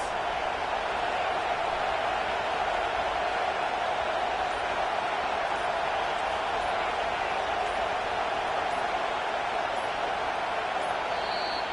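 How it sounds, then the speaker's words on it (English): Dense, steady roar of a stadium crowd at an Oregon vs Texas A&M college football game, a continuous wash of massed voices holding level for the whole stretch with no single voice standing out. "This crowd trying to make life miserable for this offense."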